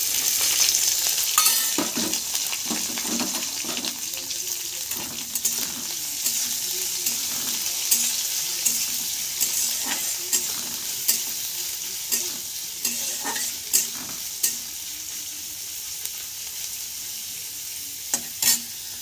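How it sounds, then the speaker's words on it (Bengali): Chopped onions fry in hot oil in a pan while being stirred, a steady close sizzle broken by frequent scraping clicks of the spoon, with no voices. "কুচিয়ে রাখা পেঁয়াজ দিয়ে দেব।"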